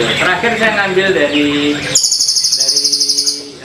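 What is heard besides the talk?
songbird master bird singing, recording played as reference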